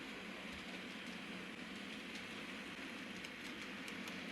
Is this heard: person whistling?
no